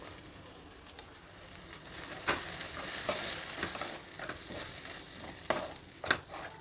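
Chilli powder, turmeric, garam masala and green chillies are fried and stirred in a pan over a very low flame, a soft continuous sizzle broken by occasional scraping stirs.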